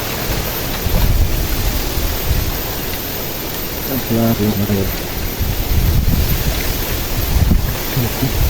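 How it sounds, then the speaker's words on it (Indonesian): Strong wind roars across the microphone on a fishing trip by the water, a constant, close, rushing noise with gusty swells throughout and a brief, faint voice partway through. "Anginnya itu kencang lur."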